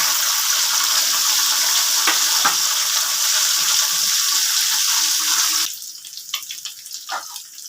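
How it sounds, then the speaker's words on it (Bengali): Chopped garlic frying in oil in a wok makes a loud, dense, close sizzle that cuts away sharply near the end, leaving only a few spatula taps and scrapes. "কড়াতে তেল দিয়ে দিয়েছি। এবার লাগবে এই উপকরণগুলো: রসুন কুচি, পেঁয়াজ কুচি, আদা কুচি। প্রথমে আমি রসুন কুচিটা দিয়ে দিলাম।"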